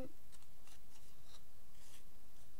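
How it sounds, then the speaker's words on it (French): Paper is being folded for a 3D origami card, giving soft, dry rustles and creases in short bursts, close up and fairly quiet, with no one talking. "Je plie l'arrière comme ceci."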